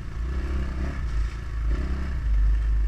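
A motorcycle engine revs hard with the throttle twisted, a loud, close, rough low roar that swells and holds with rattling undertones.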